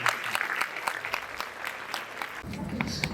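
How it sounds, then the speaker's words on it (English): Audience applause at a school inter-house speech competition: steady clapping from a room of listeners, loud and continuous, with a denser, fuller burst toward the end. "Please, let's put our hands together."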